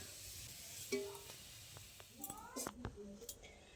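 Gentle sizzle of hot oil as fried onion beresta is lifted out with a utensil, soft scraping and small clinks over a steady frying hiss, close and quiet, with a voice speaking.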